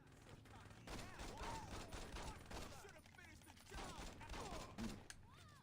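SMG gunfire in the video game Saints Row fills the stretch with rapid, dense bursts of shots that run almost without pause. Game sounds mix in with it, and muffled voices can be heard underneath.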